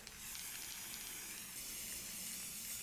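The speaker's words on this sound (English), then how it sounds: "So I'm using spray paints from orange to black," A spray paint can hisses in a steady, quiet rush of air, continuous and unbroken.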